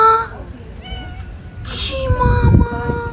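A street cat on the island of Naxos meows in a few drawn-out cries, close and clear, with people talking nearby over the town's night street ambience.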